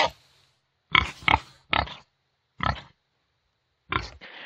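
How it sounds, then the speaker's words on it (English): A pig grunts and oinks in five short separate bursts, close and clear, with silent gaps between them. "I personally don't need this many oinks"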